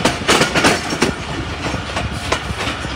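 A 246dn Malkwal Express passenger train runs along rails in the early morning between Mandi Bahauddin and Pind Dadan, with steady, close clickety-clack of wheels over rail joints and a constant rumbling roar, no voices.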